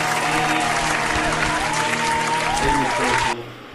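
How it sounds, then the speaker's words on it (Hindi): An audience applauds a bhajan singer at a memorial devotional music programme, a dense burst of clapping over a lingering musical tone that cuts off abruptly near the end. "जोरदार तालियां अनिरुद्ध जी की मनमोहक गायकी के लिए।"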